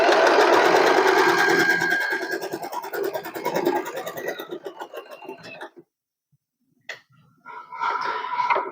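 An Usha Allure DLX sewing machine runs loudly and steadily through a zigzag stitch, the mechanical whir thinning out, pausing in a brief silence, then starting again in a short burst.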